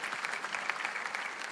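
Congregation applause in a church, a brief burst of steady clapping from a crowd of worshippers, moderately loud and heard on its own.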